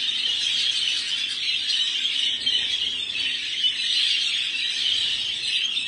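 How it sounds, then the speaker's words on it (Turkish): A dense, continuous chorus of high, squeaky quail calls, many birds chirping at once with no pauses, fairly loud and steady throughout. "Bunlar bıldırcın."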